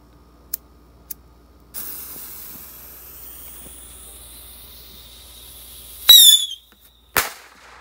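A large bottle rocket firework gets a couple of faint clicks as it is lit, then a fizzing fuse hiss, a sudden loud whooshing launch with a rising whistle, and a sharp crack a moment later.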